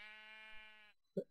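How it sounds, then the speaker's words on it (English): A sheep in Minecraft, played with the Feed The Beast modpack, gives one long, clear bleat, followed after a brief pause by a short, sharp in-game thump. "There's a sheep walking on my roof."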